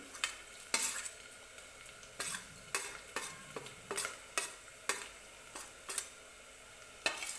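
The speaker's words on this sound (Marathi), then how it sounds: "खोबरं भाजलेलं आहे आता मी याच्यामध्ये तीळ टाकते" Sesame seeds being stirred into roasted coconut in a pan, with about a dozen evenly spaced scraping strokes of a spoon over a soft dry sizzle, close and moderately loud.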